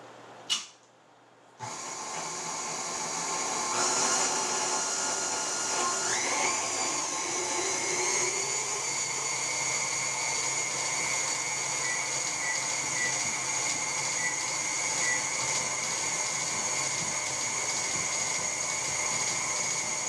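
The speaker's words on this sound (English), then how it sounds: "Now we're going to mix this on high for 2 minutes." An electric mixer runs on high speed, beating hamburger bun dough: a steady, loud whirring motor drone starts abruptly after a brief quiet moment and holds continuously, with no talking.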